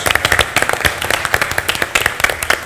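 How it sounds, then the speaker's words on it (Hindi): An audience bursts into brisk, steady applause at a comedy show, many hands clapping in quick uneven rhythm, close and fairly loud, with bright sharp claps throughout. "जोरदार तालियां फॉर बीइंग अ स्पोर्ट"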